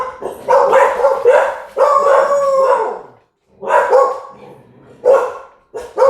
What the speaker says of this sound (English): After the dog's barking